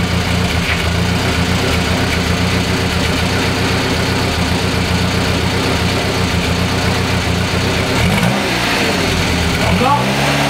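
A petrol-engined Renault 11 sits in neutral with its engine running steadily and loudly close by, then rises into a couple of revs near the end.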